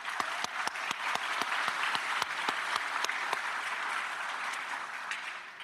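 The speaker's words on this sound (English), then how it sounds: "let's do another round of applause" Sustained applause from a graduate and professional school awards ceremony audience, a steady wash of many hands clapping with a few sharper individual claps standing out, continuous and fairly loud throughout.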